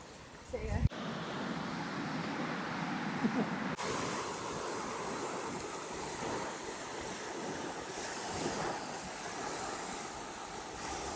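Ocean surf washes steadily onto Mauna Kea Beach in Hawaii, a broad continuous roar with wind rumbling on the microphone after a brief sharp knock at the start.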